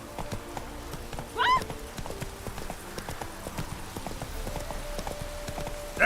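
Roach, a horse in The Witcher 3 video game, gallops in a quick, close, rhythmic clip-clop of hooves, with a short neigh early on and faint game sounds around it.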